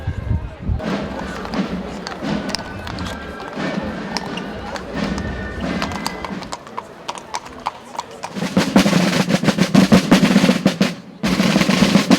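About fifteen horses from Bern clip-clop along in a mounted procession of riders for the Escalade, a dense, continuous patter of hooves on a hard surface with a voice talking underneath and a louder crowded stretch near the end.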